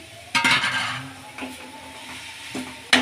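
Soya keema being stirred in a pan for paratha filling: a spoon scrapes and clinks against the metal pan in several irregular strokes, close up over a faint sizzle, with no talking.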